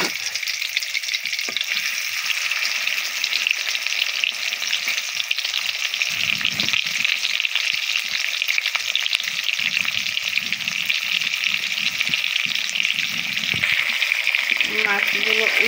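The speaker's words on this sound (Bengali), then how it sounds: "তেলটা গরম হয়ে গেছে, আমি মাছ দিয়ে দিচ্ছি।" Khalisha fish frying in hot oil, a loud continuous sizzle and crackle filling the whole stretch, close up, with occasional faint stirring rattles.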